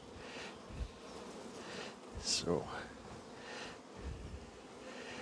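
Honeybees hum and buzz close by around an opened hive, with one insect passing loudly near the middle, under a voice speaking briefly and soft handling noises.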